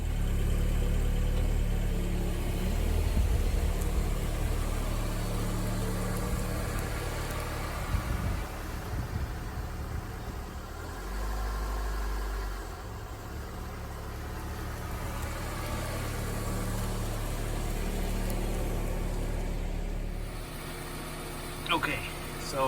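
A car engine, after sitting unused for two weeks, idles steadily with a low, even rumble heard from outside the vehicle, with a person speaking over it at times.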